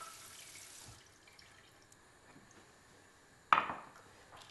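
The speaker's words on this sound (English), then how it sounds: "So to soak the gelatin, all we do is use cold water and make sure that it is cold" Cold water poured over gelatin leaves in a kitchen to soak them for lemon panna cotta: a brief, bright splash near the end of an otherwise quiet stretch of low background.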